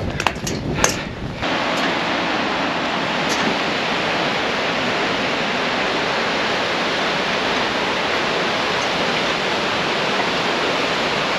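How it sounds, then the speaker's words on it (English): Loud, steady roar of a waterfall in Iceland heard from close by, a continuous broadband rush of falling water with a few brief clinks at the start. "So let's take a look at the top of this waterfall."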